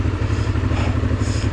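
Honda Transalp 600 motorcycle ridden on an off-road trail, its engine a loud, close, steady throbbing drone with rhythmic low pulses and light clatter, no voices.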